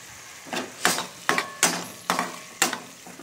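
A pot of pea and potato vegetable curry brought to a boil, giving six sharp, splashy bursts about half a second apart, close and fairly quiet, with no talking.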